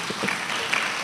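Audience hand clapping at a university gowning ceremony and public lecture; a brief burst of dense, steady applause, moderately loud, with faint voices mixed in.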